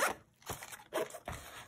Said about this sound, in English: And the zippers are also lockable too on all of the pouches.